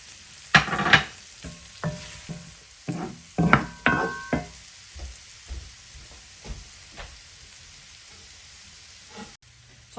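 Chopped onion and garlic hitting a hot pan for a tofu scramble, giving a series of sharp sizzling bursts as pieces drop in and get stirred, close and fairly loud, fading to a quieter frying hiss.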